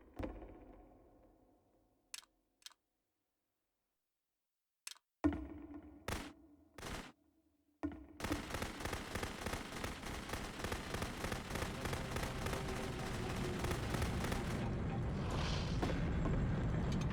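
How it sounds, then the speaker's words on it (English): Gunfire in the video game The Beginner's Guide: a few isolated sharp shots with gaps between them, then a dense, steady run of rapid loud firing that continues to the end, with no talking. "Remember, you can click to fire the gun."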